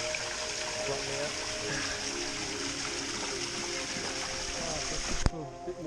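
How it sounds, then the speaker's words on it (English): Creek water runs over a small cascade in the Landsborough area of the Sunshine Coast, Queensland, a steady close rushing flow with a sharp knock near the end. "Nice little cascade. Flows for very good up here."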